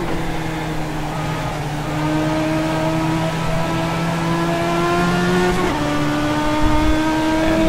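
A Legends race car engine in a racing video game drones loudly and steadily at high revs, with its pitch slowly rising and then stepping down briefly as if shifting, with no talk over it.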